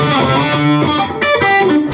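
A Japanese-made signature-model electric guitar plays a few loud, close chords and notes through heavy distortion. Each one rings out before the next is struck, with no talking over them.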